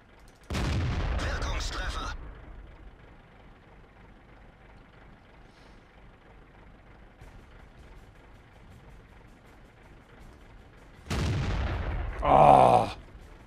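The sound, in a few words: tank cannon shots from a video game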